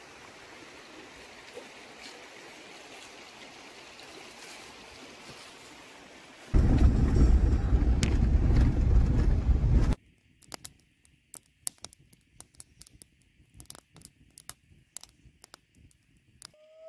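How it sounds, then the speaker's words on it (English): Heavy rain sweeps in over the wilderness as a sudden loud, dense roar that lasts several seconds, then drops to a quieter, scattered patter of drops and crackles. "Some crazy rain just came in"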